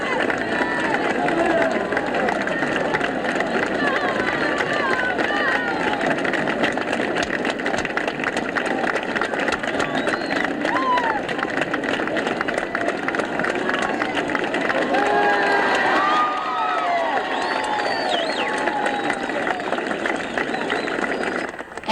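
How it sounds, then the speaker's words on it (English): A stadium crowd of about 20,000 spectators at a 1979 Special Olympics summer games roars and cheers without a break, a dense, loud wash of voices that swells and holds for the whole stretch. "Their cheers and roars of applause were non-stop."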